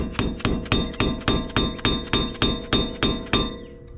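A screwdriver driven with a hammer into the front wheel hub of a 4th generation Toyota 4Runner during a wheel bearing and CV axle replacement, eleven sharp metallic strikes at a steady, slightly quickening rhythm, close and loud, with a ringing tone after each blow.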